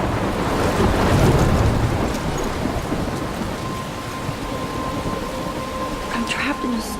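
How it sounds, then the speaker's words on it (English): A storm in the video game Life is Strange, heavy rain hissing with low rolling thunder, loudest early and easing slightly, with a few faint sharper sounds near the end. "I'm trapped in a storm?"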